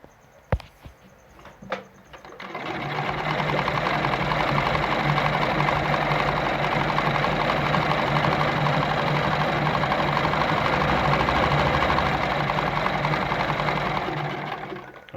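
A Gritzner model VZ heavy-duty sewing machine runs in a steady, loud continuous stitching whir after a couple of brief clicks, holding an even mechanical hum for about twelve seconds before slowing at the end.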